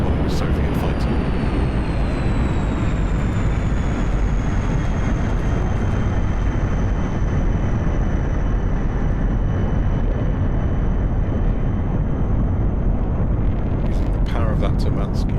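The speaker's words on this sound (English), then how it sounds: "That Turmansky afterburning turbojet to pull the aircraft into the vertical with the landing gear extended" Soviet MiG-21 fighter jet on a display flypast, its Tumansky afterburning turbojet roaring loud and steady throughout, with a descending whine as it passes, while a commentator talks over it.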